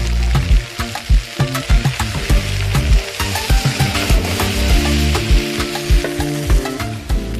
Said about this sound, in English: To the pan, add some cooked potato and some black beans.